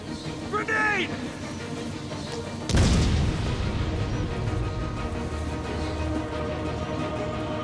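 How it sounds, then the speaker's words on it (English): A grenade explodes in the video game Batman: Arkham City, a sudden heavy boom near the middle that leaves a rumbling tail, following brief in-game voices and a short warbling electronic sound. "Grenade!"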